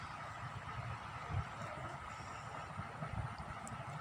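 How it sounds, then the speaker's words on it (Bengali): A Dhaka metro rail train runs on the way from Motijheel northward, heard from inside as a faint, steady low rumble with soft rhythmic knocks and no talking. "তারপর হচ্ছে যে আমরা ট্রেনে উঠে নিলাম"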